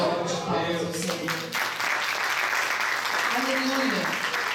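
A church congregation applauding during a Portuguese-language Bible study service, a steady rattle of clapping from many hands under spoken and sung voices, fairly close.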